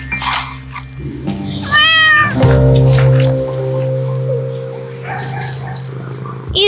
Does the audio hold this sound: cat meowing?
yes